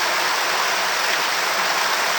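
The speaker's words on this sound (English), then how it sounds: "The top of this claim has a really big waterfall." A big waterfall on a creek at a gold claim gives a constant, loud broadband rush of falling water with no break.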